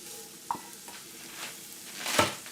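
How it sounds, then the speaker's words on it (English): Onions hit hot oil in a pan alongside mushrooms, sizzling softly with a small clack near the start and a louder burst of sizzle and stirring toward the end, close and without talking. "So I'm going to add my onions here."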